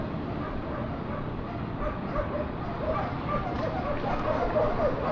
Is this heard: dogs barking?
yes